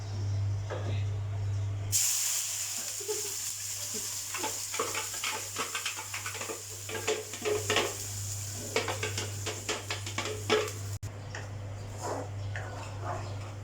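Oil and pineapple are tipped into a hot pan for a southern-style Malaysian curry with prawns and salted fish, bringing on a sudden loud sizzling hiss with scattered clinks of utensils against the pan, while a voice talks throughout.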